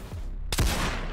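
A single sharp burst of gunfire in the Reign of Terror video game, cutting loud through a steady background hiss halfway through the short moment.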